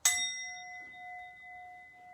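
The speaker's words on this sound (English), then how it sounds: "I'm going to ring my little bell." A single small bell is struck once, giving a bright ding that rings on and slowly fades, clear and close with no talking.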